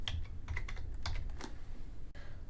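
Keystrokes on a computer keyboard in a steady run of quick, close clicks while typing a Python version command into a terminal, with one brief pause before a final few taps; no voices.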